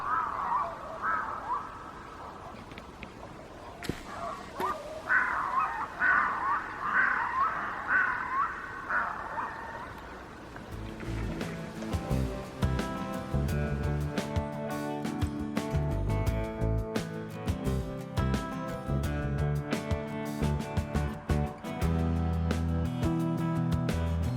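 Harsh cawing calls from several birds, likely in a mating display, ring out on a Swedish hilltop near Docksta over the first ten seconds, then loud music with steady beats takes over and continues to the end.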